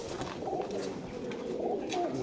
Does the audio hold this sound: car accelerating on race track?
no